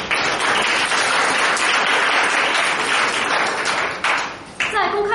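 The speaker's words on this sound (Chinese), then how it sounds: "让我们以热烈的掌声感谢评审为我们做出第一轮的评决" An audience at a school debate competition breaks into warm applause to thank the judges, loud dense clapping from a full hall that dips briefly near the end, then picks up again as a voice begins.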